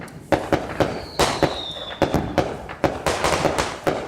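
Backyard fireworks and firecrackers popping in a rapid, irregular series of sharp bangs at close range, with a brief whistling streak rising among the cracks.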